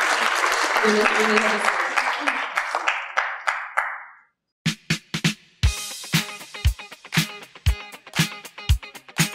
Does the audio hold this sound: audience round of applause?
yes